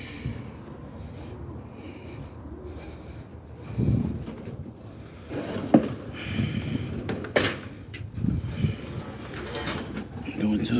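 Young Boston ripping roller pigeons in a loft coo softly and repeatedly at close range, with rustling and occasional knocks, while someone talks over them.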